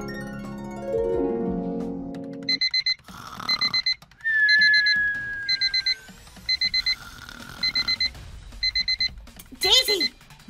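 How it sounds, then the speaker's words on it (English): Repeated electronic alarm-clock beeping inside the Roblox game Brookhaven, coming in loud bursts of rapid tones across most of the stretch, after music-like tones at the start and a rising whistle partway through. "Daisy, why did you set the alarm for 6 o'clock in the morning on the weekend?"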